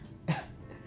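A person who is a little sick gives one short, close cough, throaty and quick, then quiet.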